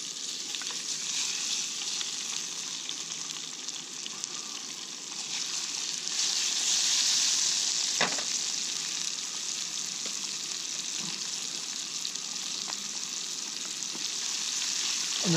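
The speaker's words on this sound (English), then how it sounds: "I'm going to take these taters and cook them right in the" Diced potatoes frying in about a tablespoon of bacon grease with bits of burnt bacon, a steady dense sizzle throughout, close and fairly loud, with a couple of light utensil knocks and no talking.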